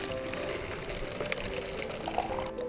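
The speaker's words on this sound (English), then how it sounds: "Oh, water fountain. Does it work? It does. Oh, bottle filling port." Water runs steadily from the bottle-filling port of an outdoor drinking fountain along a coastal hiking trail in Portugal, a close, continuous pouring hiss with slight gurgles near the end.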